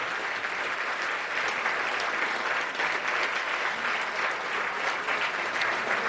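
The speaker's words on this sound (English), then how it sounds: "How about a big round of applause for those 3 that we're celebrating?" Steady applause from an audience, a dense continuous patter of many hands clapping at a moderate level throughout.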